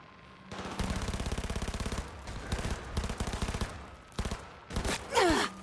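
Gunfire in the video game Cyberpunk 2077: long bursts of rapid automatic fire with clear individual shots in even rhythm, then shorter bursts, ending with a loud final blast and a whooshing trail.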